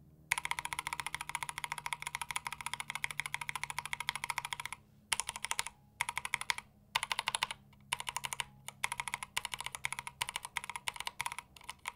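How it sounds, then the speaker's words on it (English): Typing on a mechanical keyboard fitted with Ink switches, near and fairly quiet: fast bursts of clacky keystrokes broken by a few brief pauses, with no talking. "I would say inks and marshmallows sound pretty similar."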